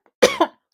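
A single close cough, two quick harsh bursts about half a second long in total, rising out of silence in a quiet room with no talking around it.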